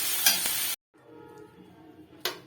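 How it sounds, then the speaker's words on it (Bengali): Pumpkin, eggplant, radish and potato frying in oil in a pan, a loud close sizzle that cuts off abruptly, a quieter stretch of faint frying and stirring, then a brief burst of sizzle returns at the end. "কুমড়ো, বেগুন, মূলো, আলু সব কিছু দিয়েছি। এখন এই সবজিগুলোকেও ভালো করে একটু ভেজে নিতে হবে।"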